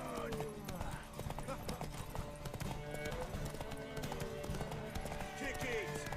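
Horse hooves clop rapidly and steadily throughout in The Witcher 3 video game, with an occasional whinny, under game music and effects.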